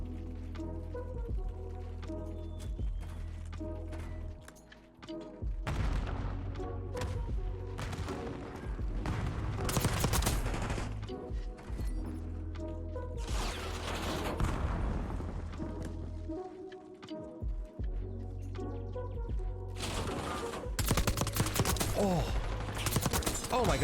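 SMG gunfire in Black Ops 6 Search and Destroy, bursts of rapid shots and booms recurring in several loud clusters over about twenty seconds, amid game effects and brief voices.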